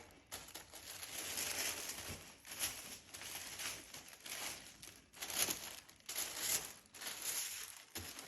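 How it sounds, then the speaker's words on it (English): Wrapping paper rustles and crinkles in repeated soft bursts while a Birkin bag is unboxed, quiet and close with no voices. "The sound of this paper is literally the most exciting thing in the world."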